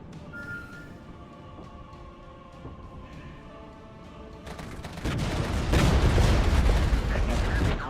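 A DPICM artillery strike in a war video game arrives as a sudden heavy, rumbling barrage that swells and roars for several seconds after a quieter stretch of background noise.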